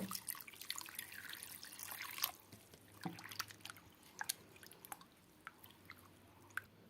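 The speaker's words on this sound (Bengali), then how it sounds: "এইরকম ভাবে 3 থেকে 4 বার জল পাল্টে পাল্টে আমি আলুগুলোকে খুব ভালোভাবে ধুয়ে নেব।" Potatoes are washed by hand in a basin of water, with the water changed several times. Close splashes, drips and sloshing come in irregular bursts, busier at first and then sparser.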